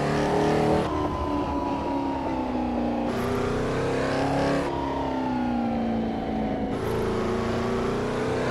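A Porsche 904/8 race car with a Formula One–derived flat-eight racing engine revs hard and continuously, pitch climbing and dropping through gear changes, loud and close from inside the car with no talk.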